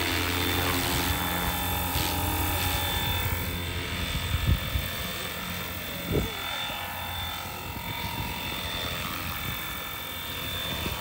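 A small RC helicopter tail motor, fitted with a sound-reduction mod, whines steadily at a high pitch, with a couple of brief knocks partway through.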